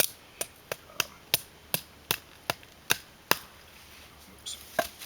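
A Bark River Bravo 1 knife splits wood into kindling with about a dozen crisp, sharp chops at a steady pace, followed by a short pause and a few more strikes.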